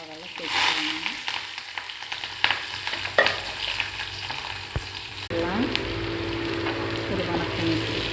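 Green chilies and onion sizzling in hot oil with mustard seeds for tomato rice, a steady close frying crackle with occasional stirring clinks and scrapes, no talking.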